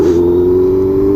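Honda CB 650F four-cylinder motorcycle engine running steadily at high revs, a loud, close, sustained smooth drone with a strong even pitch and no talk.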